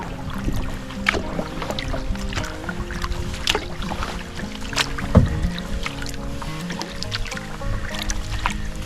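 A solo canoe is paddled with a double-bladed paddle on open water after ice-out in northern Wisconsin: close, rhythmic dips and small splashes, with water dripping and gurgling around the hull.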